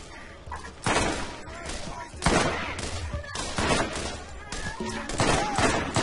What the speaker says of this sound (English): Now we're gonna be able to shoot.